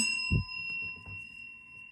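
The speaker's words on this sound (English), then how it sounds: "I'm going to go ahead and ring the bell in 3, 2, 1 for additional good juju." A small bell rings once for a tarot reading, giving a faint, sustained high tone over a quiet room. A soft low thump comes just before a brief pause.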